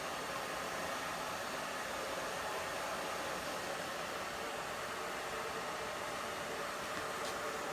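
A hair dryer fitted with a diffuser runs at medium setting, a steady, close, unbroken rushing blow of air that holds level throughout with no voices.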